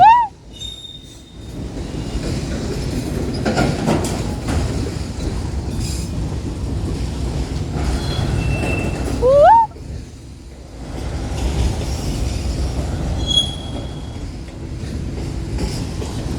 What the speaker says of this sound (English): There goes the end of that train. First train in Metairie, Union Pacific